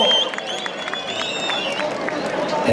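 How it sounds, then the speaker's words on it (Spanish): Crowd clapping at a jaripeo rodeo at Rancho Las Cubatas in Mazatepec, Morelos, a short dense burst of applause with shouts and whistles, an announcer's voice over it. "Venga el aplauso"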